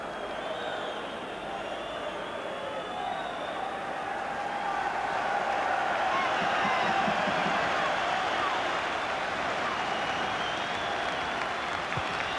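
Football crowd at a Rangers v Hearts match applauding an injured player as he limps off the pitch, a broad sustained wash of distant clapping and crowd noise throughout, swelling slightly midway.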